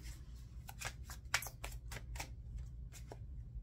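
Tarot cards are shuffled and drawn in quick papery riffles and snaps, a series of short sharp flicks close by with a soft background hum and no talk.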